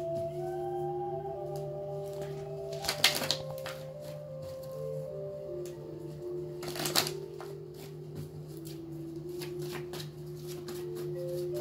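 Ancestor oracle cards are shuffled by hand in a continuous papery riffle, with sharper slaps and flicks around three and seven seconds, close and fairly quiet over a steady low hum.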